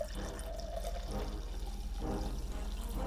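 Homemade mead pouring from a bottle into a glass, a steady liquid splash and fill running throughout at close range.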